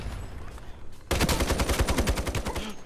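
After a brief quieter stretch, an SG weapon in a free first-person shooter opens up in a sudden, loud burst of fast automatic fire that keeps going at a steady rapid rhythm until the end.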